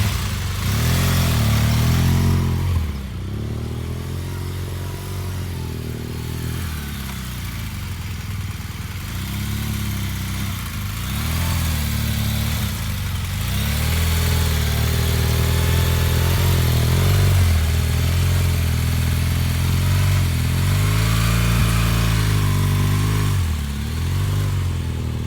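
Motorcycle ridden at low speed while the rear brake is used, engine droning steadily near the mic with repeated dips and rises in revs as the bike pauses, balances and pulls away again, without talk.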